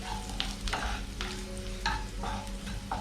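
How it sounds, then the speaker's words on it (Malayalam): Onion with ginger and garlic sautés in a pan while being stirred, giving a close sizzle broken by repeated scraping strokes every half second or so, plus faint steady hums in the background; nobody speaks. "വഴന്ന് വന്നതിന് ശേഷം നമുക്ക് സവാള കൂടി ഇട്ട് കൊടുക്കാം"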